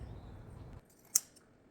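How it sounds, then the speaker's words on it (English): A single short, crisp snip of scissors cutting ribbon at a slant for a Dollar Tree wood bead wreath, faint and close, following a low soft rumble. "I decided I was just going to cut the ribbons at a slant"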